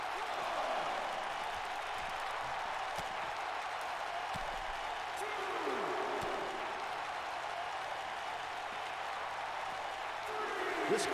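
A steady wash of arena crowd noise fills a WWE 2K19 title match, with cheering held at a continuous moderate level. Faint thuds come and go beneath it.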